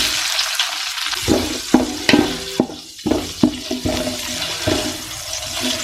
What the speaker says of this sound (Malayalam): ഇനി ഇതിലേക്ക് നമുക്ക് അരിഞ്ഞു വെച്ചേക്കുന്ന ഒരു ക്യാപ്സിക്കം ഇട്ട് കൊടുക്കാം